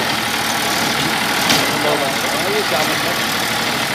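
A Massey Ferguson 241 DI tractor, a 41 HP five-gear model, runs with a steady mid-low engine drone and a throbbing pulse, while someone speaks briefly over it close by.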